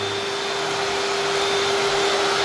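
A Neatsvor U1 MAX robot vacuum mops a floor with rotating discs, giving a constant close whirring hum with a steady high motor whine and no voices.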